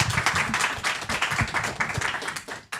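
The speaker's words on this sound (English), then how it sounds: "You can applaud them" An audience claps for a game jam team at a gaming live show, a short burst of brisk, fairly close applause with uneven rhythm that tapers off within a few seconds.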